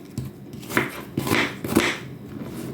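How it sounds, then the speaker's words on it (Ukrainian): A knife chops through onion on a board, several crisp cuts at an uneven pace with soft scraping between strokes, close up and fairly quiet. "Просто її теж ось так на такі кусочки нарізаємо."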